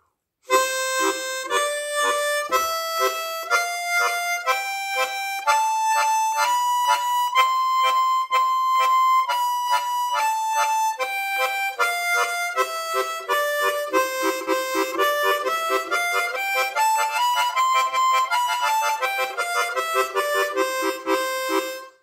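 A harmonica plays a continuous run of short chords using tongue slaps, stepping up and down through the notes in a steady, even rhythm, close and clear with no voice.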